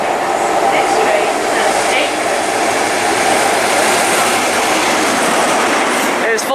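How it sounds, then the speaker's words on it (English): Class 43 HST diesel train arriving at Reading station on the Great Western main line, a loud steady roar of engines and rolling wheels close by, with a station announcement voice over it. "Arriving in now is a Class 43 HST set bound for Bristol Temple Meads from London Paddington."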